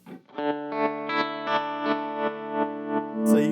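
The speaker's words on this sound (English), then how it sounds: "So you can hear it tremoloing at 85 beats per minute" Guitar signal run through a Gravitas tremolo pedal, its sustained chord pulsing in steady, even volume swells at about 85 beats per minute, loud and alone.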